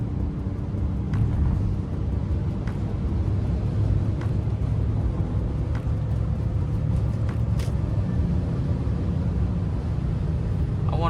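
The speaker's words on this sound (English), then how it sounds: "All I hear is like the engine bay noise" A BMW E39 engine drones steadily while cruising on a highway, a constant low rumble heard from inside the cabin, with a few faint clicks and ticks over the continuous noise.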